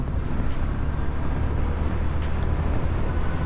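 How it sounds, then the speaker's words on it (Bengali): A car engine-brakes downhill on a hilly road toward Bandarban, producing a loud, steady, low rumble that holds without a break. "গাড়ির সেই ভদ ভদ সাউন্ড ইঞ্জিন ব্রেক করতেছি"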